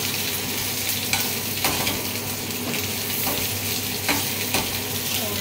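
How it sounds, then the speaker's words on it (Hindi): Eggplant (brinjal) slices fry in a pan with a steady oily sizzle and crackle, close and moderately loud, with a few stirring scrapes now and then and no talking. "और ये हमारे बैंगन भी ऑलमोस्ट फ्राई हो गए"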